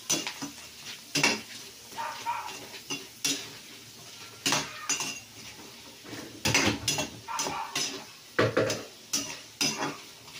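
Crawfish fry in hot oil with a constant crackling sizzle, while a metal utensil repeatedly scrapes and clanks against the pan in quick irregular bursts, close up and without speech.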